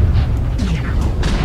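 Missile explosion in MechWarrior Online, heavy low booming rumble with a couple of sharp bursts layered over continuous battle noise, loud and close.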